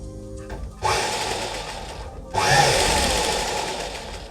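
A sewing machine stitches a fold in a cloth carry bag, running in two steady buzzing bursts with a short pause between them, close and fairly loud.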